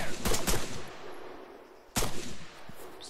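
Gunfire in the video game ARMA 3: a quick cluster of sharp shots at the start, then another close, loud burst near the two-second mark, with quieter rattling between.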